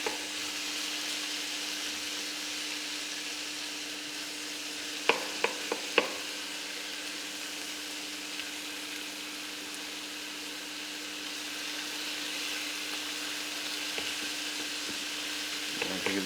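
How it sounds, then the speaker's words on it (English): Leeks frying gently in a pan for a beef pie filling: a quiet, steady sizzle with a faint hum beneath it, broken around the middle by a few sharp clicks or stirring knocks. "We want to let that fry for a minute or two till they start going that glassy colour."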